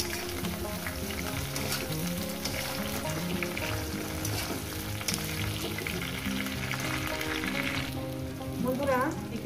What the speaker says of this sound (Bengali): ওই 5-6 মিনিটের মধ্যে বেগুনটাও ভাজা হবে।